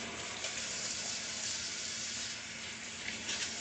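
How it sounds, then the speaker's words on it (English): Hands being washed with soap under a running kitchen sink tap, a steady close rush of water with faint shifting splashes and no talk. "I'm going to wash my hands."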